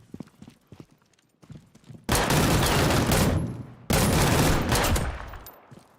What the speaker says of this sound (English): Let's see if the pistol actually shoots straight.